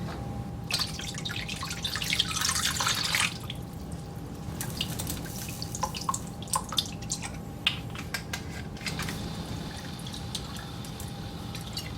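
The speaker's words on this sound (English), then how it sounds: "I'm going to have to add a little bit of water to this" Water trickles and drips into a stir fry of fresh garden vegetables with beef and pork, a steady wet pouring and dripping sound close by, with no one speaking.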